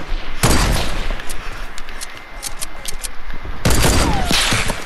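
Gunfire in Fortnite during a no-scope sniper rifle duel, a loud sharp shot opening the moment and a second heavy blast near the end, with faint game noise between.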